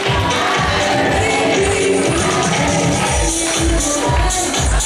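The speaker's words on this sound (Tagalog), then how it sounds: "Lakasan niyo yung palakpak." Audience at a church parish raffle draw anniversary event applauding for the parish priest, a dense steady wash of clapping from a crowd throughout, swelling slightly louder toward the end.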